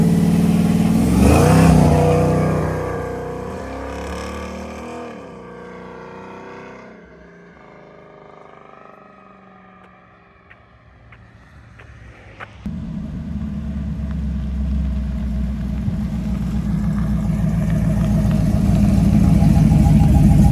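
A manual car pulls away, its engine revving and climbing through gears, dipping briefly, then rumbling louder as it gathers speed, heard from inside.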